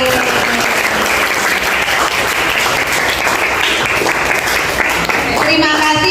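Students in a classroom clap during an ice-breaking game, a loud, continuous crowd of hands clapping close by, with voices rising over it toward the end.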